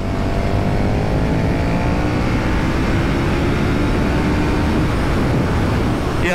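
A 2020 KTM Super Duke R motorcycle accelerates hard in third gear. The engine note is loud and close, climbing steadily in pitch through a sustained rising howl, with wind roar underneath.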